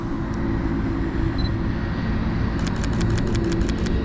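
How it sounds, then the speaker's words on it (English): Tractor engine running on a New Jersey street, a steady low idling drone close by with faint ticking clatter joining near the end, no voices. "A fucking tractor."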